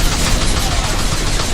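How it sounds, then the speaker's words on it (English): Heavy, sustained gunfire from Blue Suns mercenaries and Vorcha in the Mass Effect Legendary Edition 2 video game, a loud, dense wall of overlapping shots with no pauses and little speech. "Taking fire."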